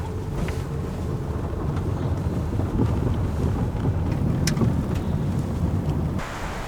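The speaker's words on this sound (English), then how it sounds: "Yeah, so it's pretty windy." Strong wind roars against the microphone in a constant heavy rush near a sea kayaking spot in a vast archipelago, with gusts swelling and a few faint knocks buried beneath.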